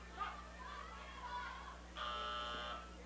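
A flat electronic buzzer marking the end of an amateur boxing round sounds for under a second near the end, mid-loudness, over crowd noise and faint talk in the background.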